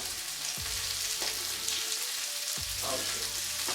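Onions sizzle in oil in a pan for a vegan stir fry, a steady close hiss broken by a few low thumps and scrapes as the pieces are moved around.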